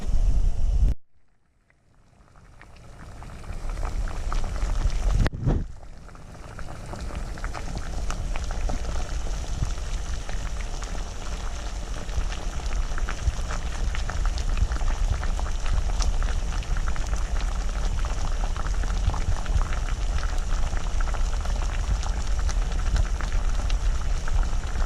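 Pot of water at a rolling boil heating a Russian hiking ration, a loud, steady, dense bubbling and hissing that drops out briefly at the start, then builds back and continues without talk.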